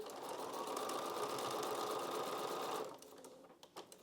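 Sewing machine stitching a straight line across fabric while piecing a butterfly quilt block, a fast steady whirring run of close-spaced stitches that stops near the end, leaving a few faint clicks and handling sounds.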